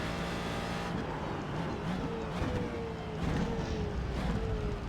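A Ford GT2 race car engine in the iRacing simulator hums steadily at moderate volume, its pitch sliding smoothly down through gear and speed changes, with no talk over it.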